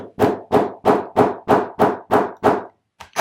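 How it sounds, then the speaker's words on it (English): Nine sharp hammer blows set a metal snap on a small wallet in a steady rhythm, each a crisp metallic strike that decays quickly, close and fairly loud. "give this another whack with my hammer"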